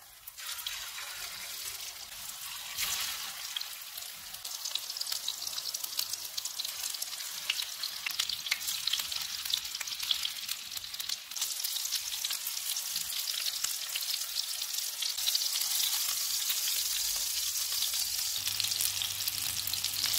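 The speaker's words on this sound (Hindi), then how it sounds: "कबाब फ्राई हो गए, इनको निकाल लेते हैं।" Chicken seekh kebabs frying in a pan of hot oil over medium-low flame, a dense, continuous hiss and bubbling sizzle holding steady for a long stretch and growing slightly fuller toward the end, with no voices.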